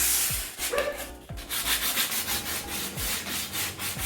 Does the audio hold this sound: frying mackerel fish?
no